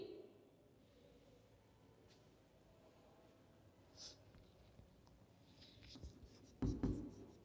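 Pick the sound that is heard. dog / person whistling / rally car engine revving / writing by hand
writing by hand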